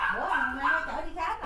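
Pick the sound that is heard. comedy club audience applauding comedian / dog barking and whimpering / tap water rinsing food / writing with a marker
dog barking and whimpering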